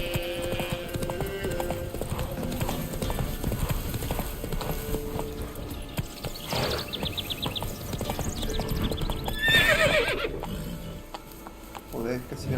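A horse in The Witcher 3 video game gallops with rapid clip-clop hoofbeats and lets out a neigh partway through, set under music and game sounds with a voice calling out.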